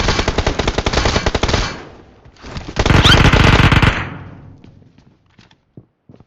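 Two loud, close bursts of rapid automatic gunfire from a video game shootout, separated by a short pause, then trailing off into a few faint scattered shots.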